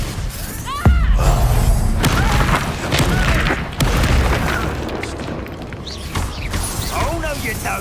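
Spell blasts from the Confringo fire spell in Hogwarts Legacy boom repeatedly amid mechanical clanks and creaks, with a character shouting spell names between the impacts.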